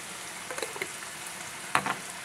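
Chicken tikka fries in a pan with a continuous soft sizzle, punctuated by a few brief clinks or stirring knocks, close and moderately loud with no talking.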